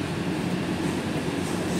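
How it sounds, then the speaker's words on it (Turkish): Steady rumble of a train ride heard from inside the carriage, a continuous low, dense noise at even level throughout with no voices. "Biz çuf çuf trene bindik."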